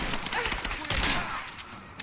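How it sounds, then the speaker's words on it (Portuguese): Gunfire in the video game Rise of the Tomb Raider, dense loud blasts and rumble filling the clip with a few sharper cracks, a noisy combat barrage without clear separate shots. "3 tiros de 12 pra matar o cara"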